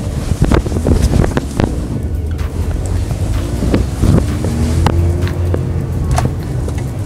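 Mazda RX8 cruising along Bear Mountain Parkway, heard from inside as a steady drone of road and wind noise with a low, even engine hum and occasional passing bumps, loud and continuous throughout.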